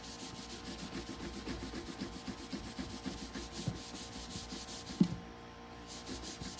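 Steel wool scrubs sticky lacquer off a spare wooden Grunow Teledial radio cabinet with a steady, close, rhythmic rubbing and scraping that ends in a sharp knock and a brief lull.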